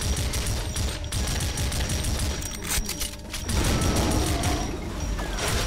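Gunfire in the Doom mod Plutonia 2, co-op with Brutal Doom: dense mechanical clattering bursts of shots and booms layered over busy game noise, loud and continuous, with no speech.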